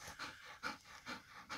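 A black dog pants at sunset after a hot day, quick rhythmic breaths repeating in a steady cycle, close and fairly soft with no talk over it.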